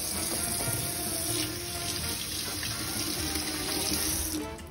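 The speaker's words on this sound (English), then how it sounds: "I got beans all over my hands now, so I'm just gonna do a little wash." A kitchen tap runs steadily while bean-covered hands are rinsed beneath it, a close, continuous splashing gush that eases off just before the end.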